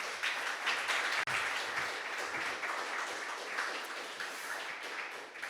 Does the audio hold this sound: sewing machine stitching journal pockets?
no